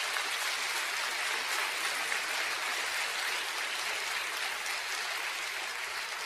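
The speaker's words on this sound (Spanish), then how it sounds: "¿Cuántos le dan un aplauso al Señor?" A church congregation applauding together during a sermon, a dense, even wash of clapping that holds steady throughout without letting up, heard alone with no talk over it.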